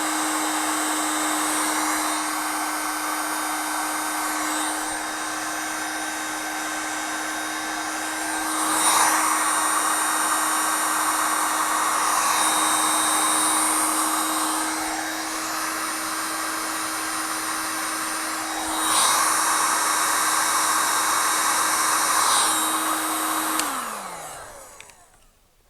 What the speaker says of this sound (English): Get the old heat gun.